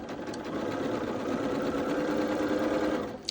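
A sewing machine runs steadily for about three seconds, joining 2.5-inch dark quilt squares for a Hunter's Irish Chain quilt, a close, continuous whirring hum that stops abruptly at the end.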